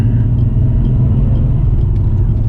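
A Nissan Skyline R32 GT-R being driven on a narrow Norwegian road produces a loud, steady low engine rumble heard from inside the car, with no other sounds over it.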